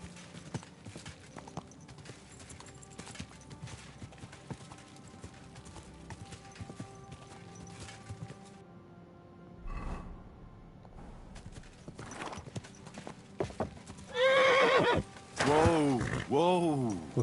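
Horse hooves clip-clop steadily through most of the stretch, with a loud horse whinny rising near the end, from a horse in the Kingdom Come Deliverance 2 video game; game ambience and some voice sit underneath.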